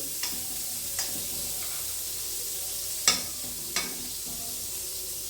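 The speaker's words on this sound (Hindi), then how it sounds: "अब कढ़ाई के अंदर डाल लेते हैं बटर अराउंड 2 tablespoon" Butter, about two tablespoons, melting in a hot kadhai on a gas stove, giving a soft continuous sizzle with a few sharp metallic taps of a ladle against the pan.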